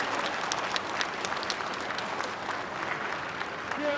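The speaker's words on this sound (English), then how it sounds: "we can see loud applause from the control" Loud, sustained applause fills a space mission control room, dense clapping running steadily without a break.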